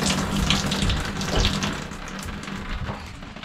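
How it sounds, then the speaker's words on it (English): Pink RV antifreeze gushes steadily from the shower head of a Keystone Bullet 261RBS camping trailer during winterizing, a continuous close, hissing water spray with no talk. "Okay, so now we got pink coming out of the shower."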